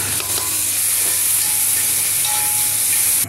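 Ginger garlic paste sizzles hard in hot oil with fried onions for a mustard fish curry, a loud, continuous frying hiss broken by a few light stirring scrapes near the start.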